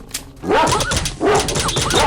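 A dog in the game S.T.A.L.K.E.R. Shadow of Chernobyl gives two loud, close bursts of snarling barks and yips, the second following just after the first, with a faint thud before them.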